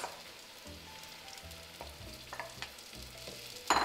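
Garlic and tomatoes sauté in a pan with a steady, quiet sizzle and soft stirring scrapes, ending in a sharper hiss near the close; no voices.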